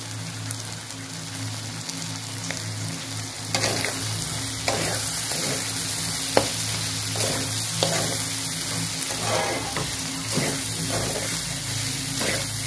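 Spiced pizza gravy fries in a pan, a steady crackling sizzle with occasional sharper pops as it is stirred, close and continuous with no voices.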